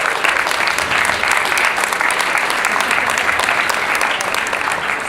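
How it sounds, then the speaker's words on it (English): A crowd at a startup tech event applauds steadily, a dense wash of clapping hands that holds at full strength for several seconds before easing slightly. "let's all give Ben a round of applause."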